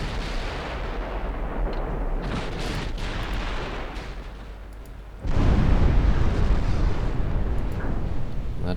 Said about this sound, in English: The battleship is firing back.